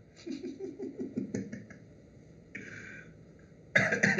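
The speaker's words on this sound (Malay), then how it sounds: "Batuk sekejap." A few short coughs in quick succession, then a pause and a throat-clearing burst near the end, close and fairly quiet.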